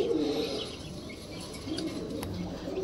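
Racer pigeons, a nesting pair sitting on eggs in a loft, coo softly in low repeated throaty murmurs over a steady background hum.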